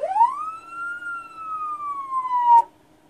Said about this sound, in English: You got the yelp.